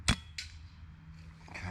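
A single sharp crack from a budget PCP air rifle fired outdoors at a distant target in the grass, followed by a faint, brief report and quiet background.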